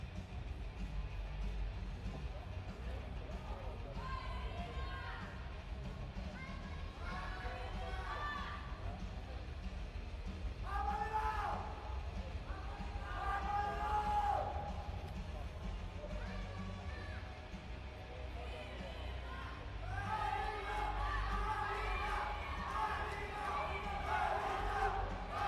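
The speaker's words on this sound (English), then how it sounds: "I don't know if you can hear the crowd." Crowd at the junior right-arm arm wrestling finals in EUROARM competition, a steady din of cheering and shouting that swells in waves, with voices yelling over the noise throughout.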